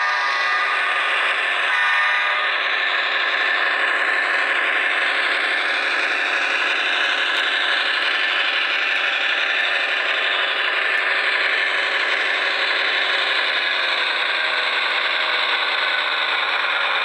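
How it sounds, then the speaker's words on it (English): A Broadway Limited CSX AC6000 model locomotive sound system plays a steady hissing, whirring air-compressor cycle that stays loud and even throughout, with a faint rattle near the start and no voices. "it has its own cycling sounds where it goes through the air compressor"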